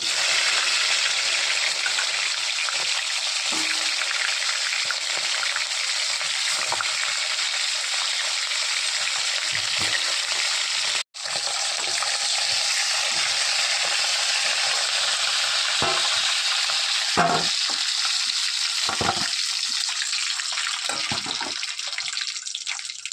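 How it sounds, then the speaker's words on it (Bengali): Crabs frying in a pan of hot oil give a steady, loud, dense sizzle that runs continuously, broken once by a brief drop and with occasional stirring knocks toward the end. "কাঁকড়াগুলো ভেজে নিয়েছি"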